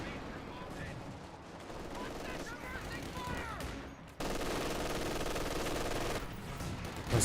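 Gunfire and mortar fire in the World War II strategy game Company of Heroes 2, bursts of rifle and machine-gun shots with a louder sustained barrage partway through, heard under a caster's commentary.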